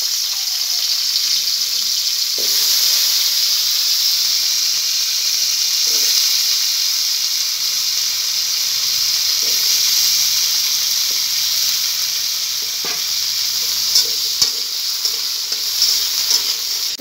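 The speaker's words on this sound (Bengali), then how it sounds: "এখন এই তেলে আমি আলুটাকেও ভেজে নেব।" Potato pieces frying in hot oil for a Bengali pointed gourd recipe, a loud continuous sizzle and hiss that holds steady, broken by a few light clinks and stirring knocks.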